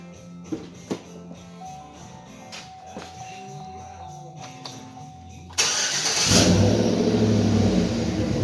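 A stock-height GMC Sierra pickup truck outdoors, quiet at first with faint knocks and light handling noises, then its engine cranks and fires at about 5.6 seconds into a loud, steady rumbling run that swells as it revs.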